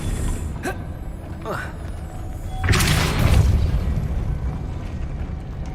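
Depulso spell cast in Hogwarts Legacy: a few light whooshing sweeps, then a sudden forceful burst with a crackling rush that rumbles on under busy game ambience.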